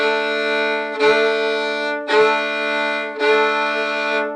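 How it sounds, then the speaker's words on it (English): Fiddle plays sustained double stops, four bowed notes in a row, each starting with a brief slide up into pitch. "fiddle players slide into notes constantly."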